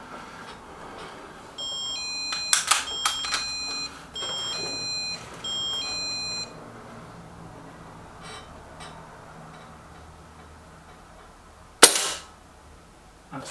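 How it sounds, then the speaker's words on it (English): A Lee Enfield Sentry air rifle fires one sharp, close shot near the end, alone. It comes after a series of electronic buzzer beeps and faint background rustling. "That's a nice shot from the Enfield,"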